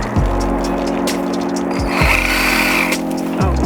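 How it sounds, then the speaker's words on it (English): A Sawzall reciprocating saw cuts loudly and steadily while ground is prepped for tilling and landscape fabric, its motor briefly dropping and restarting in bursts. "So I'm just using the Sawzall and I'm like angling the blades away from me"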